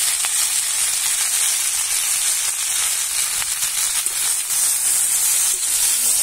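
Sliced tomato, ginger paste, turmeric and salt fry in a pan for a village-style potato and drumstick chachori, giving a steady, loud, close sizzle and hiss that runs unbroken throughout.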